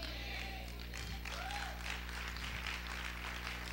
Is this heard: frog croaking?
no